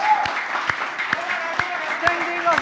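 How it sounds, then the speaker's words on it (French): Standing ovation for Jean-Jean Roosevelt at a 2022 Génie Milényal finale gala: dense, steady crowd applause filling the hall, with sharp individual claps and occasional cheers or whistles. "Standing ovation."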